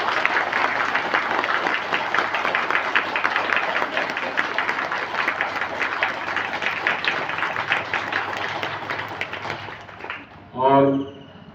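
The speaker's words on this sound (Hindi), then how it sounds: "जोरदार ताली दें" A seated crowd at a yoga committee meeting in a yoga centre applauds in a long, steady burst of clapping that thins out near the end before a voice briefly speaks.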